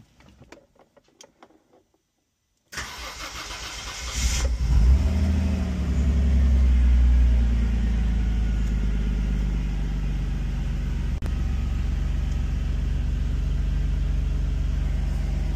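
A Renault Clio V6 cranks after a moment of quiet, catches with a rising roar, then settles into a loud, steady idle close by.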